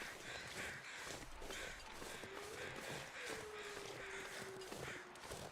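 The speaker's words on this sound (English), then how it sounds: "No, those are regular crows." Regular crows call in The Long Dark's outdoor wilderness, with one or two caws rising over a constant windy hiss and faint crunching.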